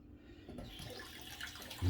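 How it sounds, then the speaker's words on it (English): Tap water runs steadily over a razor being rinsed at a sink, a soft continuous splash with a louder surge right at the end. "Rinsing out the razor."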